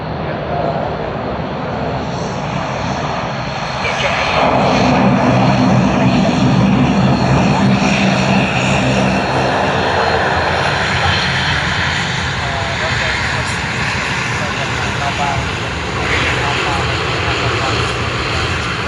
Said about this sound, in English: Another dash 8 for us.